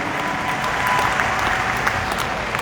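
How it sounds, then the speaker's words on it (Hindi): Audience applause at a live program: a sustained, dense wash of many hands clapping fills the space evenly for the whole stretch, loud and steady, with no voices above it. "यार ताली बजानी है तो मेरे लिए नहीं, इन लोगों के लिए बजाओ"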